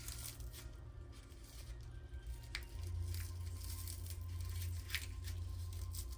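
A small spell packet of paper is folded by hand, giving faint, close rustling and crinkling with a few brief crisp creases over a low steady hum.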